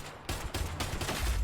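Rapid bursts of automatic gunfire from a rival team in a VR shooter video game, fired in close, loud volleys that crackle steadily through the short moment without pause.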